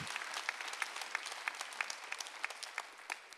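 A church congregation at a Sunday worship service claps in a quick, fairly even rhythm, moderately close and on its own without talk.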